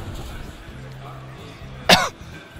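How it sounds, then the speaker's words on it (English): A single short, sharp cough close to the microphone, standing out over faint background sound in a gaming stream. "Just thinking about Swarmos makes me cough and get sick again."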